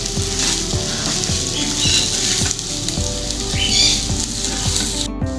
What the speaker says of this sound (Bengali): পেঁয়াজটা উঠিয়ে নিয়েছি, এবার চালটা হালকা ভেজে নিব।